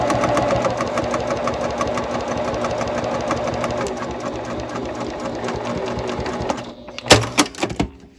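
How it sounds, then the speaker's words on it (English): Sewing machine stitching a quarter-inch seam on a tote bag, a fast, steady mechanical chatter running for several seconds before stopping, followed by a few sharp clicks and knocks. "And then you sew up the other side again with a 1/4 inch seam allowance."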